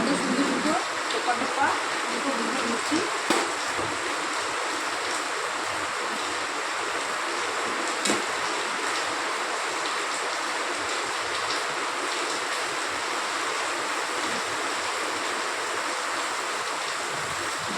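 Heavy rain beats on the tin roof of a house in a dense, steady roar that holds without a break for the whole stretch, loud and close.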